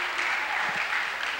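A school audience claps for a soloist at a 1999 high school show. The applause is a dense, even wash, brief and moderately loud, with no voices over it.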